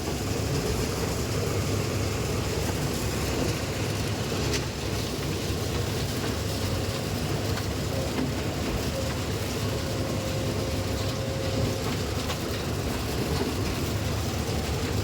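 A combine harvester engine labours under heavy load with its cutter bar taking a full cut, giving a loud, steady broadband roar and low rumble that runs without pause close to the microphone.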